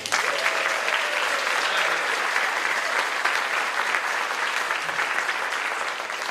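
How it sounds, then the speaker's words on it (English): A town hall audience applauds Girl Scouts with a dense, sustained round of clapping that fills the room evenly from start to finish, close and steady. "Before our Girl Scouts leave, one more round of applause for them."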